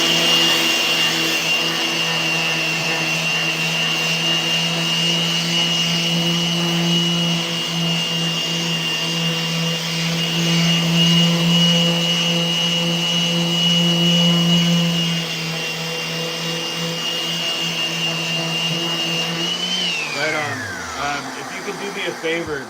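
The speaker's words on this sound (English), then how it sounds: "it would have to do with the vacuum system that's hooked up to this tool" A vacuum dust extraction system attached to a skateboard deck shaping tool runs with a steady whine and a loud droning hum, then spins down near the end while people talk over it.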